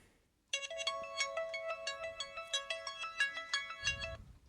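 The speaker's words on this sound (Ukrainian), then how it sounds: "Зараз вам хоча б включу, як працюють мелодії на даному телефоні, щоб ви відчули звук." An HTC Trophy smartphone plays a bright, tinkling ringtone melody of repeated notes for about four seconds after a short silence, then stops, with a faint low rumble near the end.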